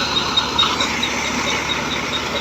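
A 2000 model Massey 240 tractor runs a thresher during mustard threshing, its engine a steady, continuous drone with faint mechanical rattling and a thin high whine throughout, and no talk.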